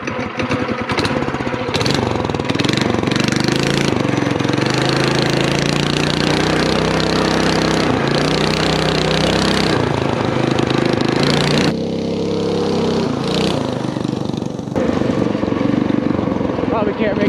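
The small engine of a Warrior 160 off-road machine revs hard and loud throughout a rough ride, rising and falling with throttle, with a brief dip near twelve seconds, under occasional talk.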